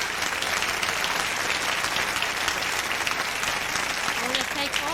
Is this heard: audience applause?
yes